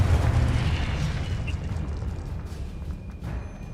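A Confringo fire spell explodes in the Hogwarts Legacy video game, a single loud booming blast with a rumbling tail that fades over a few seconds.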